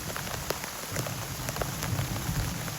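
Steady rain pours onto surfaces outdoors beside a creek, a dense hiss of drops with scattered sharper patters throughout.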